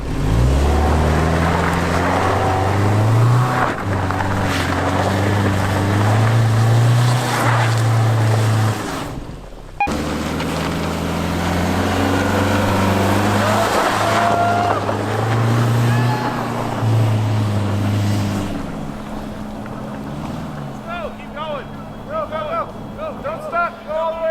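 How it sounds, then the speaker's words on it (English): A car on snow tires is floored up a steep, winding county road (Lick Skillet Road), its engine roaring loud and steady with a deep droning hum that dips briefly midway, while someone talks over it. "if I floor it, I should be able to get momentum and come around this corner"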